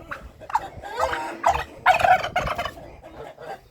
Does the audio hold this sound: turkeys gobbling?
yes